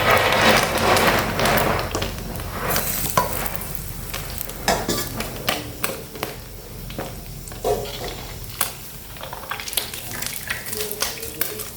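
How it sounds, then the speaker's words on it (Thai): Shredded fluffy catfish deep-frying in hot oil, a loud dense crackling sizzle with scraping and stirring sounds throughout, close and steady with no talking. "ทอดปลาดุกฟูให้สุกสุก"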